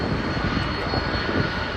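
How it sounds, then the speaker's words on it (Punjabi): At the Toronto Air Show at night, a loud, steady roar of a passing airplane engine fills the moment, broad and constant without letting up. "ਇੱਕ ਮੇਰਾ ਹੋਰ ਜਹਾਜ਼ ਚੱਲਿਆ ਗਿਆ"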